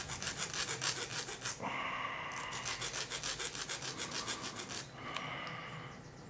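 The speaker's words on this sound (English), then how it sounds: "use the rough file. To really reshape and thin those blades down a bit." A rough file rasps back and forth over the steel blades of a cheap ruling pen to thin and reshape them, quick regular strokes close up, with a brief pause midway before the filing resumes.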